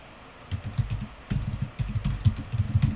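Fast, irregular clicking of keys on a computer keyboard, with short bursts of taps and brief pauses, close and fairly quiet.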